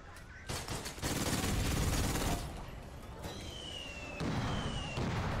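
Bursts of rapid automatic fire from an ATAC weapon in the APB Reloaded video game, dense and loud, in several sustained volleys with brief lulls between them.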